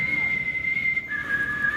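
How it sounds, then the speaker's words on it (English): A person whistles a steady, sustained high note that drops slightly partway through, with crowd murmur underneath. "He's doing the whistle."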